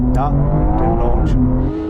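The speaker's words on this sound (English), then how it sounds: "You can always rely on a Porsche for pull away." A Porsche 911 GT3 pulls away hard in a drag race, its engine droning steadily loud and close as it accelerates, with brief overlapping sounds.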